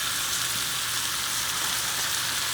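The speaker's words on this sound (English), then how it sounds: "Now that I have my ground beef in there, you want to pay attention because you want to keep working it." Ground beef fries in a pan during a large-batch cooking class, a steady dense sizzle and crackle holding at an even level throughout with no talk.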